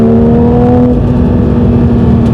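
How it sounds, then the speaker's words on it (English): Porsche 911 992 S/T flat-six engine running with a steady, loud drone and a held tone that eases slightly, close and continuous with no voices. "The engine feels like it's got loads and loads of power, loads of torque."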